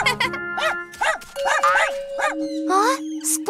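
A cartoon puppy in a Cry Babies children's animation barks and whimpers in quick, high, yappy bursts, close and lively over soft background music.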